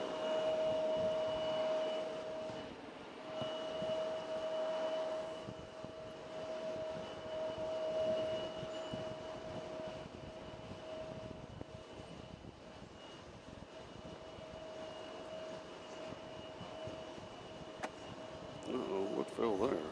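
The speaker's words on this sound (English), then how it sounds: "All right, here comes the 767 over here." A Boeing 767 airliner passing at JFK airport, a steady distant engine roar with a sustained tonal whine, heard under nearby conversation.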